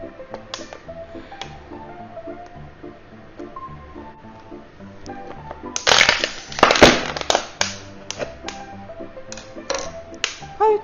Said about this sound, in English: use a needle to poke a small hole into the plastic bottle and then enlarge the hole with a screwdriver